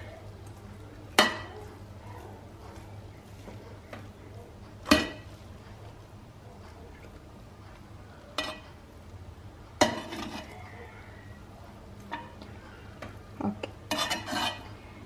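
Chicken biryani rice made with country chicken is mixed in a pot, giving sporadic sharp clinks and scrapes of a spoon against the metal over a low steady hum, with a brief spoken word.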